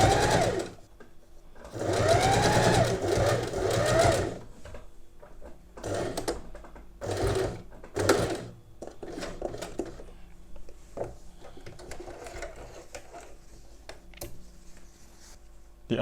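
A sewing machine runs in several bursts while stitching a pin hem, a close, rapid mechanical chatter, with longer runs at first and then shorter, intermittent stitches separated by pauses.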